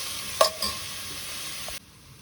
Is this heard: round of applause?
no